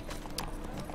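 Horse hooves clip-clop across a short stretch in The Witcher 3, a black Nilfgaardian steed stepping in quick, even beats over a constant ambient game bed.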